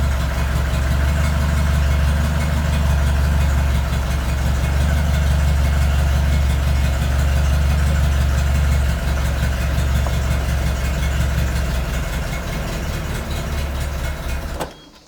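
A Peugeot 205 engine, restarted after a fire, idles loudly and steadily up close with a low rumbling, slightly knocking beat, then cuts off abruptly at the end.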